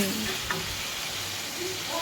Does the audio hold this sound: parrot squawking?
no